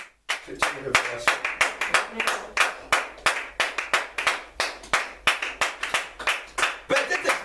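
A church congregation claps in praise of God, with steady, brisk rhythmic clapping close by that continues throughout, loud and crisp with a few uneven hits.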